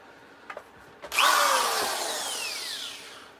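A corded DeWalt power drill widens holes in a carved workpiece. Two light taps come first, then the drill spins up loud and close and winds down over a couple of seconds.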